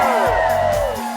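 A crowd at a charity event whoops and cheers in one short, loud, close swell of overlapping voices.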